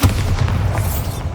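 A Bombarda spell explodes in Hogwarts Legacy, giving a loud, heavy low boom that hits at once and rumbles steadily for about a second and a half.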